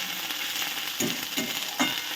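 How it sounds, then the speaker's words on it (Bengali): Ginger, garlic and green chili paste frying steadily in a pan, a continuous close sizzle with a few louder scraping stirs near the end. "এরকম মশলাটা আমি ভালো করে কষিয়ে নিচ্ছি"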